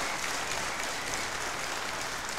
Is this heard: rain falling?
no